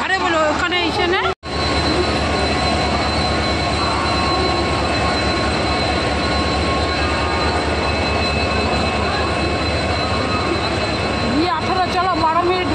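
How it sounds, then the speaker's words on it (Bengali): A train at a railway station produces a steady loud rumble and clatter of carriages, with faint squeals and station bustle, and people talking over it throughout. "চল ট্রেন দিয়ে দিয়েছে"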